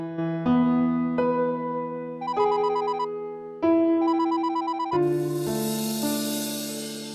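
A phone ringtone plays a bright electronic melody of repeating chiming notes in several loud bursts, clear and close with no one speaking over it.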